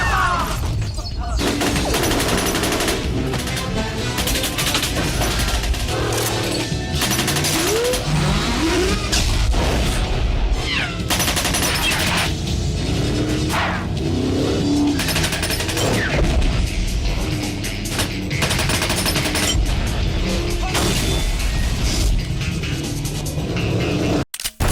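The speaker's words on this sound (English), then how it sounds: "firing a captured Mac-10 at his pursuers" A captured Mac-10 submachine gun fires at pursuers during a hovercraft escape from a North Korean military camp in a movie scene, with dense bursts of gunfire mixed with engine roar, booms and shouted voices throughout.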